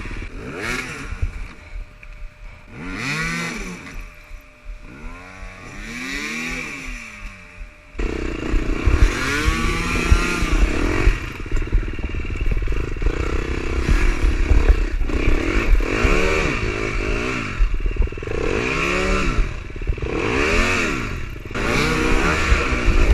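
Dirt bike motorcycles racing through muddy terrain in the rain at the Tennessee Knockout 2018, engines revving and bogging in repeated rising and falling bursts, one bike close and loud, others farther behind.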